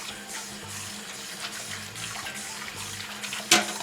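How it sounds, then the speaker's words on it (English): Tap water runs steadily into a bowl as slimy pumpkin seeds are rinsed, a soft continuous splashing with a brief sharp clink near the end. "we're rinsing."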